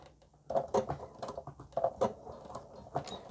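A sewing machine running through a short stitch and reverse on a small hand sanitizer holder keychain, giving a few quick mechanical bursts of clattering needle action, close and fairly quiet, with no talking.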